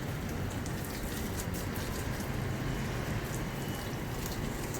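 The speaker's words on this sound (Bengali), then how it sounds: "গাছগুলো একটু জল দিয়ে দিচ্ছি আজকে" Water runs steadily over potted plants during the rainy season, a continuous, even hiss and patter like light rain on leaves and soil, close and unbroken throughout.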